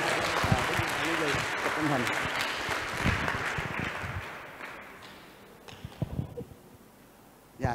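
Young people at a Buddhist monastery youth retreat clap long and loud, the applause mixed with excited voices and chatter, then fading into scattered claps and talk.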